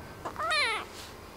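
A single drawn-out cat meow that rises and then falls, fairly close and clear over a quiet background.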